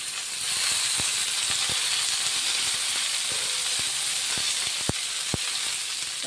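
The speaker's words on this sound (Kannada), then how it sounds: "ಅದು ತೊಳೆದಿಟ್ಟ ಕರಿಬೇವು ಸೊಪ್ಪು, ಅದಕ್ಕೆ ಪಟ ಅಂತ" Washed curry leaves crackling in hot oil in a pan, a steady close sizzle broken by sharp scattered pops and spits throughout.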